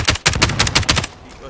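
Rapid bursts of automatic gunfire from a Call of Duty: Modern Warfare battle royale match, about six close, loud shots in quick succession before fading to a quieter tail.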